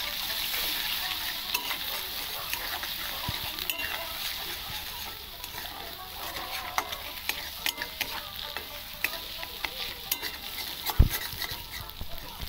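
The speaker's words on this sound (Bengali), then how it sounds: "ডিম ভাজা, সবজি ভাজা।" Egg fries together with vegetables and carrot in a pan, giving a continuous sizzle with repeated clicks and scrapes as it is stirred, and no voices.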